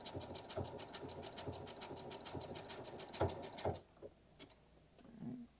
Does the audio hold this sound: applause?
no